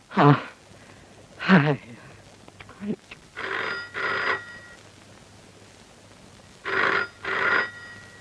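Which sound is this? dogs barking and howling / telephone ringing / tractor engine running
telephone ringing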